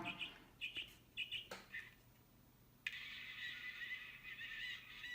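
Bright electronic goose-honking tones from a Nice ROX600 gate automation unit repeat in short bursts, then a sustained buzzy synthetic honk drones on, close and moderately loud.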